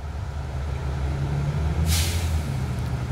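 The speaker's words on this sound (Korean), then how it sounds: "차들이 움직이고 있습니다. 오늘 일요일인데 차가 움직이고 있습니다." Vehicles moving around a driving school lot heard from across the way, a steady low rumble with a brief hiss of air near the middle, no voices.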